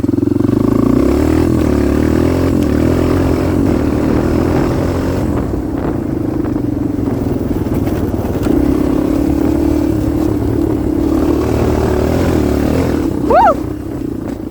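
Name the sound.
Kawasaki KLX 230R dirt bike wheelie in 5th gear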